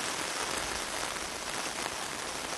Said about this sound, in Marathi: सध्या कोकणाला पाऊस अक्षरशः झोडपून काढताना पाहायला मिळतो आहे